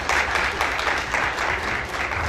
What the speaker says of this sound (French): Applaudis-le, non, les gars